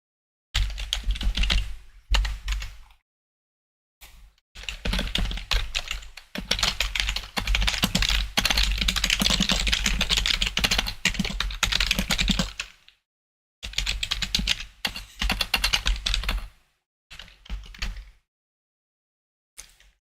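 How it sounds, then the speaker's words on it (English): Steady typing on a computer keyboard, close and clear, in long bursts of rapid key clicks broken by short silent pauses. "hope this typing isn't coming up too bad."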